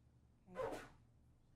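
One quick, breathy sneeze, faint and somewhat distant, in an otherwise quiet room.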